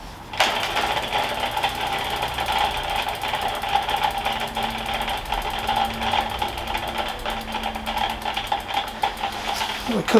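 Specialized Ruby bicycle's freehub clicking and grinding as the rear wheel spins, a fast steady ratchet buzz close by, somewhat rough, continuing for about ten seconds.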